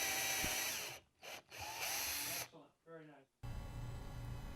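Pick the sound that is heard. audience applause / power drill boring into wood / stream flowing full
power drill boring into wood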